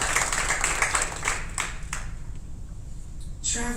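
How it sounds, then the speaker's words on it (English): School board meeting audience clapping for students, a brief burst of applause that fades out, with a voice starting to speak at the close. "Can we give them another round of applause?"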